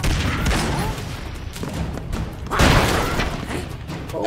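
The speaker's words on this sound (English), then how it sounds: "I threw a grenade." A grenade explodes in the retro action video game Broforce, a dense burst of rumbling booms and crackling debris, with a second loud blast midway through continuous game noise.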